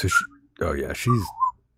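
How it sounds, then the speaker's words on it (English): A young girl whistles playfully in short, wavering gliding tones mixed with breathy, voice-like sounds, close by and lively, each phrase separated by brief pauses. "she's all whistling away"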